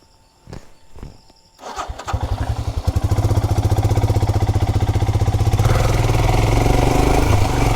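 A Royal Enfield Himalayan motorcycle carrying a pillion starts up nearby after a few footsteps and clicks, then settles into a loud, steady, thumping engine note that builds slightly as it pulls away onto a dirt track.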